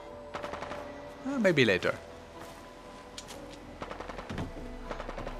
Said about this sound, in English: Sounds like there's a lot of shooting going on.